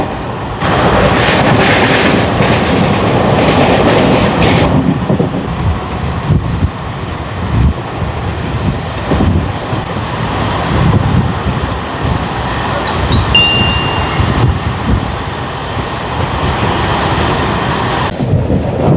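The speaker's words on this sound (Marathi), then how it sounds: "आता आपली लोकल पोहोचते ठाणे रेल्वे स्टेशनला." Mumbai local train speeding toward Thane station, skipping intermediate stops: a steady, loud rumble of wheels and wind buffeting, dipping briefly midway, with a short thin whine near the end.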